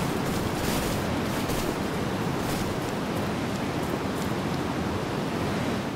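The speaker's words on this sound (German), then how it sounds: "Sehr praktisch, dass da ein Wasserfall ist." Steady, loud rushing of a waterfall in the video game Star Ocean 5, a dense unbroken roar of water that holds at even volume throughout with no voices.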